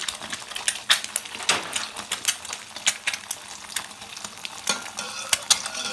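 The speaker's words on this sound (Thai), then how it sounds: "ทำไข่เจียวใส่เต้าเจี้ยว" A Thai omelette with fermented soybean paste fries in a pan, a bright crackling sizzle with frequent sharp spatters and scraping stirs over a steady hiss.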